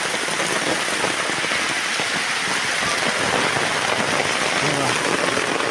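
Heavy rain pours down in a village, a dense, steady hiss of drops hitting surfaces at constant strength. Faint voices sound now and then beneath it.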